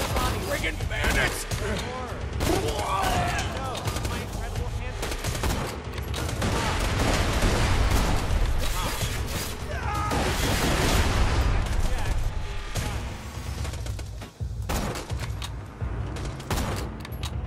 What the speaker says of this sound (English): this is the Hyperion sniper rifle I'm using